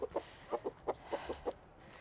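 Several hens cluck and fuss inside a red farm coop, a string of short, uneven calls repeating close by over about two seconds with no talking.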